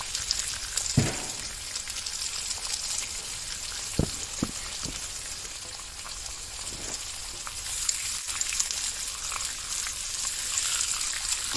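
Goetta fries in a little oil on a griddle, a continuous bright sizzle with occasional sharp pops and crackles scattered through, close and steady.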